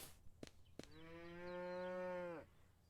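A cow in a farming and supermarket simulator game gives one long, loud moo after two short clicks, the call holding steady before dropping off abruptly.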